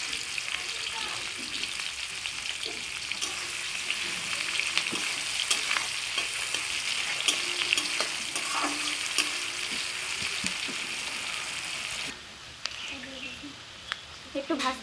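Onions and garlic with bay leaves sizzling in hot oil in a pan for a jackfruit curry, a steady crackling fry with occasional stirring scrapes and brief voices in the background.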